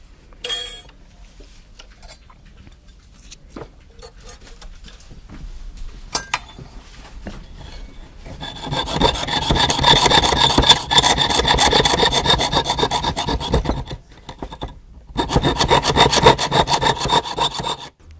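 Quiet scraping and faint taps at first, then a loud, steady run of rapid back-and-forth jeweller's saw strokes cutting a metal tea scoop with a bright metallic rasp, briefly pausing before resuming.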